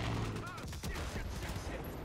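Dynamite blast in Far Cry 5, a loud burst of explosive cracks and rumbling debris running continuously for about two seconds amid gunfire-like bangs.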